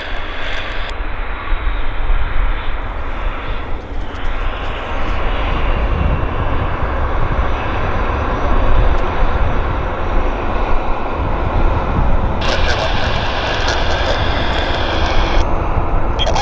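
United airliner arriving from San Francisco, landing at Vancouver airport: a loud, sustained jet engine roar close by, with a brighter high whine swelling near the end.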